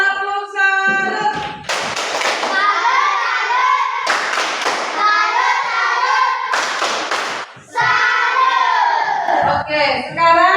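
Schoolchildren in a classroom perform a 'tepuk salut' clap in loud, rhythmic bursts, each burst a quick patterned run of claps mixed with chanting voices, repeated three times with spoken lines between.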